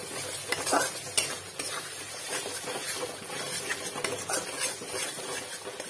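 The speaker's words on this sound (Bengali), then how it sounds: "আর এতে একটু সর্ষে বাটা দেবো, এই সর্ষে বাটাটা দিয়ে দিচ্ছি।" Mustard paste stirred into a fish curry masala in a pan, a busy mix of scraping spatula strokes and light metallic clinks over a soft sizzle, close and steady with no speech.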